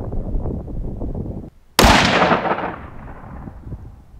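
A rifle shot fired from a Quick-Stix hunting shooting-stick rest outdoors, one loud sharp crack that rolls off into a long fading echo after a brief silence, with wind noise before it.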